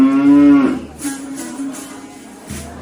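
Cows moo on a road, with one long, loud, low moo up front followed by fainter lowing and quiet rustling around them.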